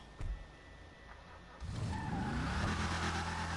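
A powerful sports car engine in Grand Theft Auto V cranks and roars to life, settling into a loud, rumbling idle after a brief quiet start.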